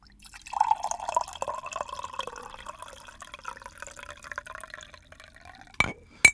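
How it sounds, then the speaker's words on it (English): Tea poured into a cup gives a close, rising trickle whose pitch climbs as the cup fills, then a brief clink near the end. "That could have sounded like I was having a piss, but it is tea pouring"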